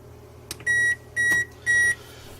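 A new oven's timer sounds three loud, sustained electronic beeps in an even rhythm as it is set, each preceded by a soft button press, with a low hum underneath.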